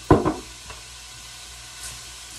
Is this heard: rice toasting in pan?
yes